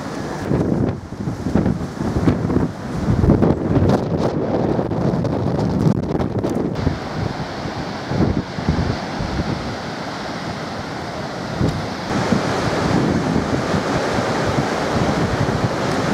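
Caspian Sea surf at Derbent in Dagestan rolls and crashes steadily, loud and close, with heavy wind rumble buffeting the microphone throughout.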